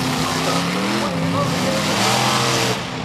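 Race car at Charlotte Motor Speedway looping around as its back tires lock up, a loud continuous engine roar with shifting revs and tire skid, heard under a commentator's voice throughout.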